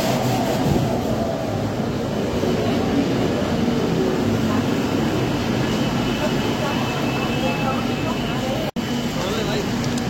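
Kolkata metro train pulling into a Green Line platform bound for Tollygunge, a loud continuous rumble and roar of the approaching train filling the whole stretch, with a brief clunk near the end.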